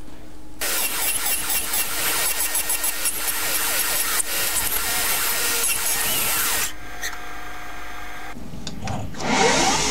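A small CNC lathe machines Delrin washers, parting them off five at a time, giving a loud, steady whirring and cutting noise for several seconds that briefly drops, then resumes with a rising rush near the end.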